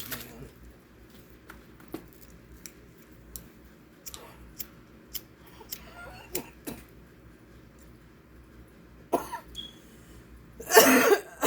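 A few sharp coughs break out near the end after quiet, scattered small clicks and rustles.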